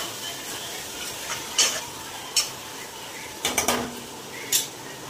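A vegetable is stirred and sautéed in a pan over steam until the oil separates. Several distinct spatula scrapes and clinks sound over a soft, low sizzle.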